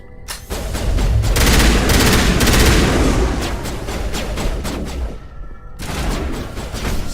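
Sustained rapid gunfire in Mass Effect: Legendary Edition, a loud dense burst of automatic shots lasting several seconds, then a short pause before more firing, with no talk.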